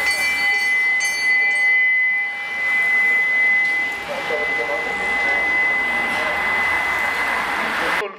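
A hand bell rings for a cash-prize sprint at the 2016 Schifferstadt bike race. It rings as a steady, sustained tone for several seconds beneath an announcer's continuous talk and outdoor race noise.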